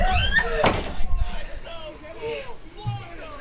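A door is shut with a single sharp thud early on, set among excited children's voices chattering around it in a room.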